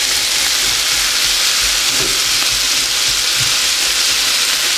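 Breakfast potatoes with onions and red peppers fry in a pan, a loud, steady, close sizzle throughout with faint stirring scrapes underneath.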